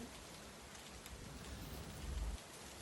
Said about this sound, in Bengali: মুসুলধারায় বৃষ্টি নেমে এলো